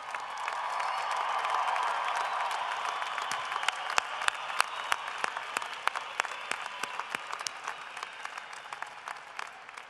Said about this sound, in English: please join me once more now in applauding all of our graduates